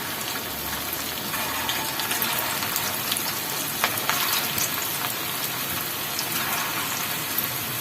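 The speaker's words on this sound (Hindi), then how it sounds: "अब इनको फ्राई करेंगे और ये डीप फ्राई करना है।" Minced meat kofta balls deep fry in hot oil, a steady dense crackling hiss that holds evenly throughout with no talking.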